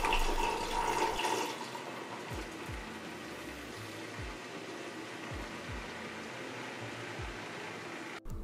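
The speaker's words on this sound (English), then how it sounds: "pour it into sodium hydroxide solution with strong stirring to break up any solid chunks." Bismuth solution poured into sodium hydroxide solution under strong stirring gives a soft, steady splashing pour at first, then a quieter liquid swirl with repeated low knocks and stirring sounds, close and alone.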